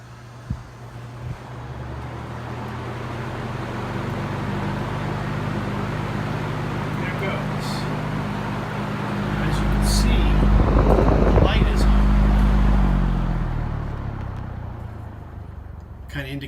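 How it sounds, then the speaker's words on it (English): A vintage Chelsea Constellation reversible box fan runs on its high setting, giving a steady broadband whoosh with a low motor hum that swells louder midway, then settles, with no talk over it. "But here is high, and I believe this will spin clockwise towards us."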